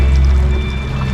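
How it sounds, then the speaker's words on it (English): Water moving in a lazy river at a water park, a steady low wash and ripple up close with no talk over it. "The water is rippling."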